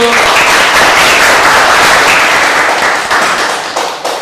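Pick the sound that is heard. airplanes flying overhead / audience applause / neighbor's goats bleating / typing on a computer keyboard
audience applause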